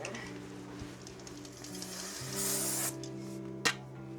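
Aerosol cleaner sprayed onto the brake caliper retainer pin of a Kawasaki Z650 motorcycle, a soft brief hiss over a steady low engine-like hum, followed by a small click, faint overall.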